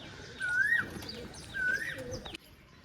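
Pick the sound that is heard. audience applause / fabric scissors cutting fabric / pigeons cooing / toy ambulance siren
pigeons cooing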